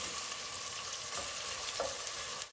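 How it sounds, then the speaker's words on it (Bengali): Garlic, onion and dried chili tempering in hot oil for bagar, a constant fine sizzle, quiet and close, with no one speaking. "রসুন, তেল, পেঁয়াজ, রসুন আর শুকনা মরিচ দিয়া বাগার"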